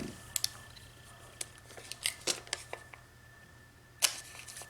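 Scissors snipping through paper while making a watermelon-themed birthday card, a series of sharp, close, irregular cuts spread out with quiet pauses between them.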